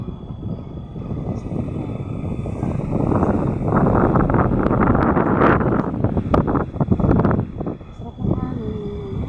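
Steady outdoor wind roars and buffets the microphone close up, rising and falling in gusts, with a person talking partly underneath it.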